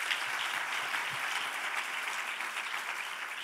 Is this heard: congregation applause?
yes